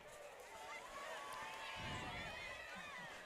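A packed crowd at a high school homecoming football game in Oil City, Pennsylvania, with a broad, distant murmur of many voices, fairly faint and swelling briefly in the middle.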